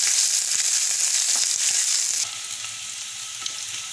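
Onions fry in oil in a pan for a green peas and potato curry, giving a loud, continuous close-up sizzle that drops slightly in intensity partway through.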